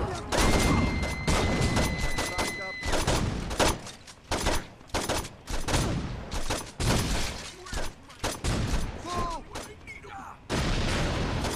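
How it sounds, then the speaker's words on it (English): Rapid gunfire from the Saints Row 2 video game crackles in dense bursts and volleys, loud and nearly continuous, with someone talking over the shooting. "Who's shooting me?"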